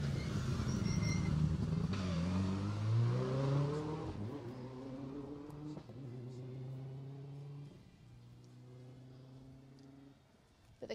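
Rally cars on a Jersey Rally stage pass through a walled right-hand corner. A close engine revs up and shifts through the gears, then fades while other engine notes carry on in the distance.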